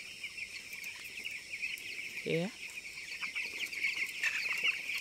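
Broiler chicks feed at night in a widened brooding pen, chirping in a constant high chorus with one lower cluck-like call standing out, all heard at a moderate distance.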